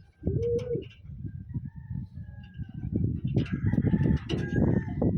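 Taiwanese racing pigeons coo close by, one distinct throaty coo near the start followed by a continuous low murmuring of several birds.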